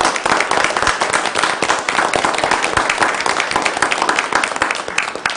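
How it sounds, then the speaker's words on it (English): Dense applause fills the room for the whole stretch, many hands clapping at once in a steady, loud patter at a school board meeting, with a few voices faintly mixed in. "I want to give us a virtual round of applause to all of our students and staff."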